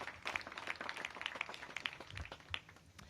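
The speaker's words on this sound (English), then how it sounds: "Give them a big round of applause." Scattered applause from an audience at a ribbon-cutting for a short-term family housing site, moderate and fairly distant, with individual claps standing out over a general patter.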